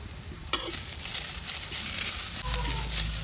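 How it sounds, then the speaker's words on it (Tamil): Drumstick leaves and onion sauté with cumin in a hot pan, giving a steady close sizzle with a sharp scrape of stirring near the start and a louder, fuller frying hiss toward the end. "ஒரு வதக்கி எடுத்துக்கலாம்."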